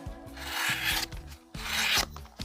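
Kershaw Launch 14 knife blade slicing through an index card, two close, crisp papery rasps about a second apart, loud and without talk.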